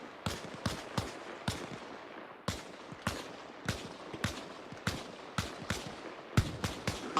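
Repeated gunshots in Arma Reforger, a military game, sharp cracks in an irregular stream of about a dozen shots over several seconds, fairly close and loud against a steady background with no talk.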